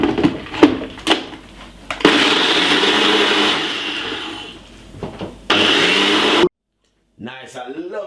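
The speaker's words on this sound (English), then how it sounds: "I'm going to be covering it and I'm going to be blending this for about 4 to 5 seconds" A Ninja blender whirring as it blends a smoothie, with loud motor bursts of a few seconds each, stopping and restarting, and a person speaking close by between the runs.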